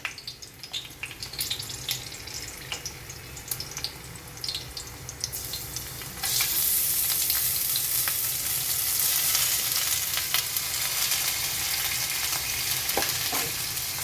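Oil sizzles steadily as cleaned ridge gourd peel cooks in a pan, with light stirring scrapes; the frying jumps to a louder, fuller hiss about halfway through and stays up until the end.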